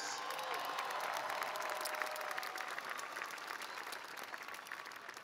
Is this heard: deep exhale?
no